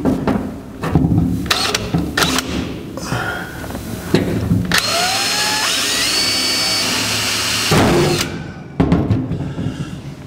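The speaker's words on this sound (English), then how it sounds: "we're going to drill the holes out to 3/8 of an inch." A power drill enlarges holes in a brake pedal bracket out to 3/8 inch on a 1949 Chevrolet gasser project, with short bursts, then a long sustained run that winds down, and clattering in between.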